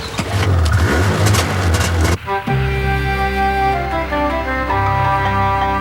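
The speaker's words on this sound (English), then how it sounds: "We shall all have to master the art of snowmobile driving, even me." A snowmobile engine drives across Arctic snow, a loud, rough, broadband roar that drops off sharply after about two seconds and settles into a steady, tonal droning hum, close and continuous, with no talk.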